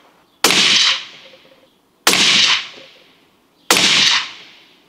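Three loud, sharp rifle shots from a Springfield Armory Model 2020 Boundary fitted with a muzzle brake, firing 180-grain ELDM rounds, each blast cracking close and then ringing out in a brief decaying tail, spaced about two seconds apart with no talking.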